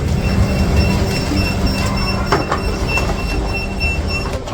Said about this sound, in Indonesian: dan itu dia keretanya